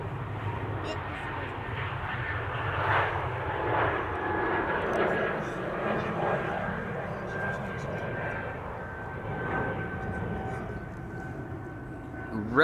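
KLM Embraer E195-E2 airliner departing Schiphol, a sustained jet engine roar with a faint whining tone, moderately loud and steady throughout, with someone talking over it.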